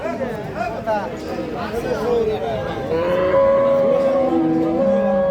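A cow lets out a long, drawn-out moo amid a noisy crowd of chattering people outdoors at a cattle market.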